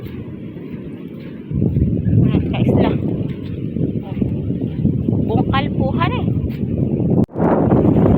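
Strong typhoon wind buffets the microphone on an island shore, producing a heavy, low roaring rush that grows louder after a quieter start. A person talks throughout, and there is a brief dropout near the end.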